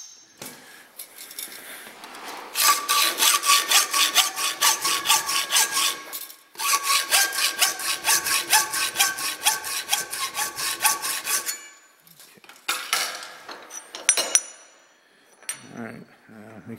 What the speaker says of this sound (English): Now I can go over and I can just hacksaw that close